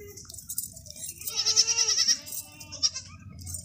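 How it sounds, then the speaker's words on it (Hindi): Dairy goats at a livestock sale bleat nearby, one long wavering call followed by a shorter bleat, with no talking. "ये देखें इस तरह की बकरियां जो होती हैं वो दूध भी काफ़ी ज़्यादा देती हैं।"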